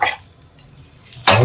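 A tempering sizzles in a pan on high flame, a bright hiss that flares at the start, sinks to a low crackle, then surges again loudly with a clatter of metal against the pan.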